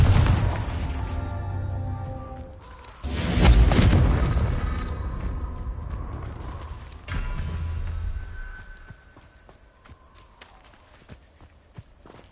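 The Confringo explosive spell from the Hogwarts Legacy video game goes off as two loud, booming blasts, each fading gradually, with footsteps and faint clicks in between.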